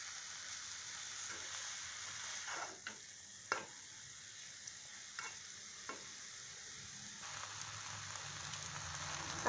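Green chilies and chili paste frying in oil in a pan for a fish-head cabbage dish, giving a steady close sizzle broken by several scraping stirs.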